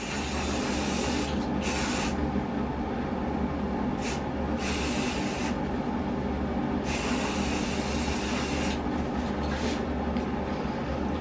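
Aerosol spray paint in winter camo hisses onto the straps of a chest rig in several separate bursts of about one to two seconds, with short pauses between them and a steady background hum.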